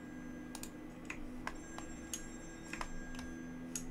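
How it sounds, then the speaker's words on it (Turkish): A telephone in the video game Still Wakes the Deep rings in short repeated electronic bursts, spaced about half a second apart, fairly faint against a steady low hum. "şuradan telefon çalıyor."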